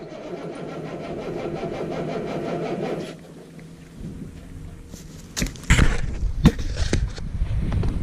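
A farm vehicle engine on a weak battery cranks sluggishly for about three seconds, drops to a lull, then gives several louder uneven turnover bursts that fail to catch.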